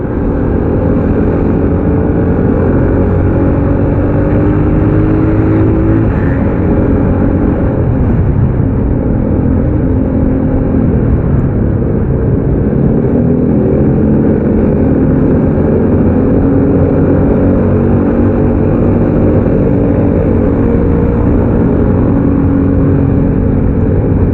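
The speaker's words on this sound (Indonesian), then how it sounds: "Enak juga tuh knalpotnya Om Yetno." A car engine and exhaust drone steadily and loudly through a long stretch of driving on a trip from Tangerang toward Gunung Geulis, Bogor, a constant low rumble with no talk over it.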